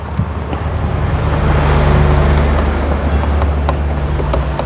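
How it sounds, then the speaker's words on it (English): A car roars loudly close by with a heavy, sustained engine rumble and rushing noise that swells and holds for several seconds, no talk over it. "Gonna do some burnouts now,"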